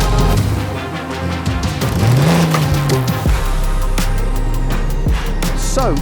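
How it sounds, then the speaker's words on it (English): Porsche Sprint Challenge race cars on a formation lap at Snetterton circuit make a loud, continuous engine roar, with revs rising and falling and sharp shifts as cars pass close by. "Currently the cars are out doing their formation lap for what will be their first of 2 races today."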